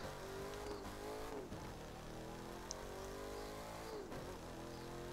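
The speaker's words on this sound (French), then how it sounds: "le bruit de la Mustang, moi franchement j'adore" Ford Mustang engine in The Crew 2 video game drones steadily with a rich, sustained tone, revving and dipping twice as gears change, with a faint tire squeal, heard alone.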